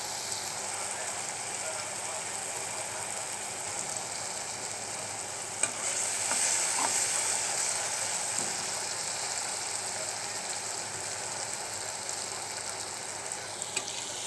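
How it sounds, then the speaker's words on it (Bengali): Spice paste frying and being stirred in a pan before fish are added, a soft steady sizzle with occasional light stirring scrapes, fairly quiet and close, no voices heard. "মশলাটা আর একটু কষুক, তারপর মাছগুলো দিয়ে দেবো,"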